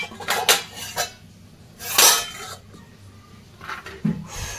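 Cooked chicken topped with fried onions is moved into a dekchi cooking pot. A utensil makes scattered metallic clanks and scrapes against the pots, loud and close, with a brief rattling clatter in the middle.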